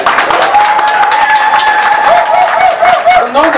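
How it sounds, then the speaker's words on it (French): Audience applause at a Côte d'Ivoire independence celebration in New York, a steady wash of clapping from a crowd filling the whole stretch with even, sustained loudness. "que je vous demande d'applaudir s'il vous plaît"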